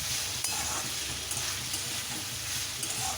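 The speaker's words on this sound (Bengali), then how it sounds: "দেখো সবজিগুলো সব ভাজা ভাজা হয়ে গেছে।" Vegetables and peanuts sizzling and frying in a pan for chire poha, a steady dense hiss with occasional stirring clicks, close and continuous.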